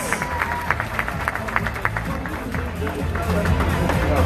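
A pageant audience applauds the judges at the Miss Universe 2017 preliminary competition, a dense wash of clapping and crowd noise that builds toward the end.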